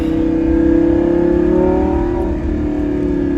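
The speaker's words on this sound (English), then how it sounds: "I'm gonna downshift so you guys can hear what those insane downshifts." Lamborghini Gallardo LP550-2 with a V10 engine, heard from the cabin as it downshifts, a loud steady engine drone with rising and falling pitch throughout, no talking.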